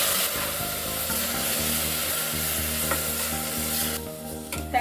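Tomatoes frying in a pan for tomato rice, stirred with a spoon over a steady sizzle and soft scraping, with a low hum running underneath; no talking.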